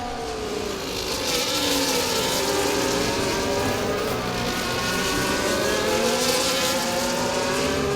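A Formula 1 car with low-downforce wings in F1 24 screams at high revs down a straight at the Miami Grand Prix sprint race, a steady loud engine whine with slight pitch shifts and no talk.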